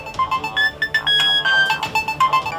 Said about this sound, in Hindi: उसे खोजते हुए राम आधार के पैंट में रखा मोबाइल फोन फिर बज उठा।